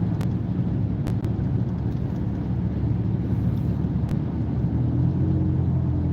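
A car cruising smoothly at about 50, with a steady low engine and road rumble and constant wind noise throughout, close and even, with no voices.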